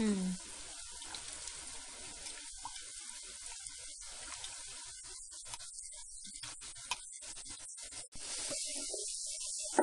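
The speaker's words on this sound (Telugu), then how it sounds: "తర్వాత చింతపులుసు పోసుకోవాలి." Tamarind juice poured into a hot pan, a steady watery sizzle and splash running throughout with a brief pause near the end before the hissing frying returns, fairly loud and close.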